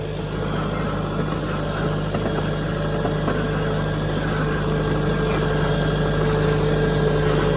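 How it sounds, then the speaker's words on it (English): A ground-driven gravity seeder planting cover crops rolls behind a tractor running about 1500 RPM in second gear, its gears and chains giving a steady whine over a constant low engine drone, close and unbroken. "That whining noises, you can hear the gears and chains running"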